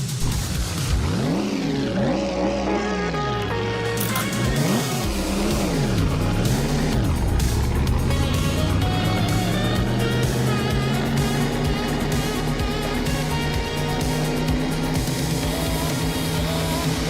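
Race car engine in a PC VR racing game, revving and shifting through rising and falling pitch sweeps, then holding a steady loud drone at speed, close and continuous with no talk.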